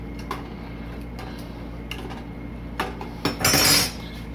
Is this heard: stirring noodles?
yes